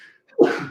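A single sharp, close sneeze bursts out after a brief quiet breath, loud and abrupt, on a live sports talk stream.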